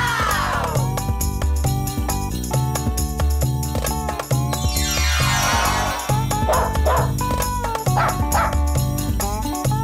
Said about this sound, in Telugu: కుక్క పిల్లని ఇంగ్లీష్లో పప్పీ అంటారు